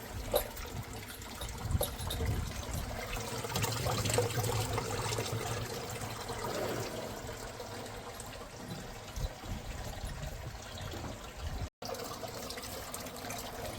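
A cow drinks from a village water tank, making continuous soft sloshing and trickling water sounds at a fairly low level, with no voices.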